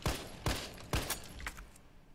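Gunfire in the video game Resident Evil 3: three sharp, punchy shots about half a second apart, followed by a couple of fainter pops, fairly quiet overall.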